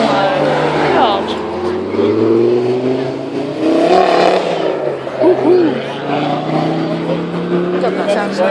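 An RS car at a Preston supercar meet roars with a loud, sustained engine note that rises and swells, accelerating nearby, while excited voices talk over it.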